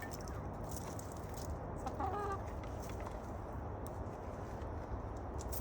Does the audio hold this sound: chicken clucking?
yes